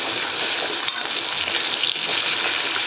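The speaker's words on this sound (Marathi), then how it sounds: "आपण तेलामध्ये छान परतून घ्यायचं आहे कांदा" Onion with salt sautés in oil for a dhaba-style egg masala, giving a loud, steady hiss of frying with faint stirring scrapes throughout and no voices.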